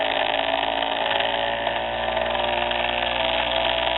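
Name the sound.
Bedini motor rotor speeding up as coil approaches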